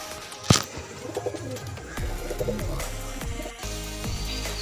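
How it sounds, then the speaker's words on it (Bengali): Breeding pigeons in a loft, including a female, with repeated soft low cooing phrases and a brief flap or rustle near the start, moderately close and without talk. "এই যে তার মাদি পায়রা"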